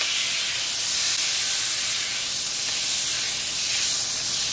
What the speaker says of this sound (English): I'm going to be adding butter to this.